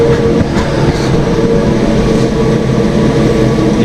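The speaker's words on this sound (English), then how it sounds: "It lights, and then everything starts really winding up faster, and then boom, it's like this." A military tent heater runs at full output, giving a loud, continuous broadband roar and rumble that holds steady for the whole stretch without talk.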